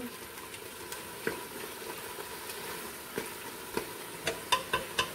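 Ground coriander and cumin, with other contents, cook in a pan with a faint, steady sizzle, broken by scattered spoon scrapes and taps that grow sharper toward the end, with no talking.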